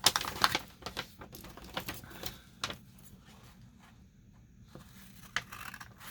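Copy paper is cut by hand at a craft table: a quiet, close series of crisp snips and papery rustles, irregularly spaced and heard alone.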